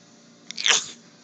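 A single short, breathy sneeze burst, close and fairly loud over a quiet room hiss, with no voices around it.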